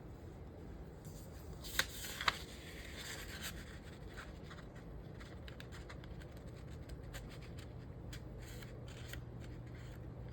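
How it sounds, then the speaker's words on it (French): Scissors trim a loose corner of a canvas in a quiet room, with two sharp close snips early on followed by soft, faint scratching and rustling of the material. "Je vais faire, essayer de l'arranger au ciseau."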